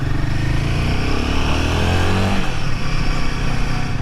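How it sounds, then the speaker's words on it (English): A Royal Enfield Himalayan 450 motorcycle engine runs steadily and loudly up close, its pitch sliding down around the middle as the rider eases off, then carrying on at a lower rumble. "All right, so we're gonna take it out on some roads now."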